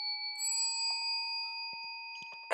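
A steady bell-like electronic chime rings out in clear sustained tones, with a few soft clicks near the end.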